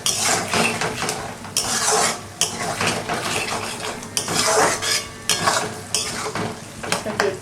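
Capsicum and tomato stir-fry in a pan for chilli fish, with a close sizzle and rhythmic bursts of metal utensil scraping and clanking against the pan as it is tossed, no voices present.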